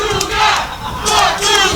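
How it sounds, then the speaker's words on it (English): A large crowd at a wrestling match roars and cheers in loud, surging waves, the noise rising and dipping continuously. "Crowd was rallying there for a minute."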